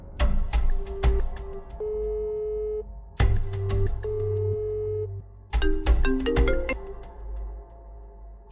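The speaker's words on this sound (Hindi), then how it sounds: "फोन नहीं उठा रहे, हो सकता है मीटिंग में बिजी हो" A phone ringing with repeated electronic tone patterns in three bursts, separated by short pauses and going unanswered, fairly close and clear with no talking.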